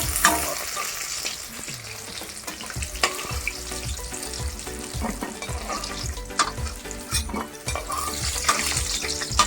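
Bombay duck (loita) fish pieces fry in hot oil, sizzling steadily while a utensil scrapes and stirs at intervals, close and fairly loud with no voices.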